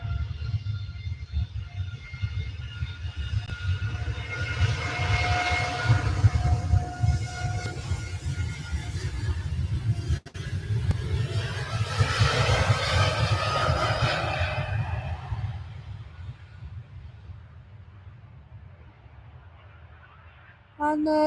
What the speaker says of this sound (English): This one bound for Cancun, 787 TUI Dreamliner, shooing down the runway.